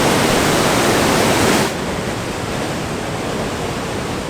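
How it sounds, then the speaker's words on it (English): Huka Falls on the Waikato River, where a whole lake drains through a narrow channel, roars as a loud, steady broadband rush of water, dropping slightly in level partway through. "The whole lake empties through the Hooker Falls into the Waikato River."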